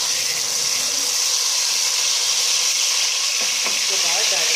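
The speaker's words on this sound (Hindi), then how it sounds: "तो हम इसके अंदर डालेंगे लहसुन और दालचीनी का पेस्ट।" Garlic and cinnamon paste dropped into hot spiced tempering oil for a moong dal dish, a loud, dense, continuous sizzle and hiss close by, with a few stirring scrapes toward the end.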